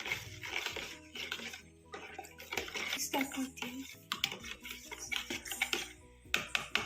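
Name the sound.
mixing sugar into water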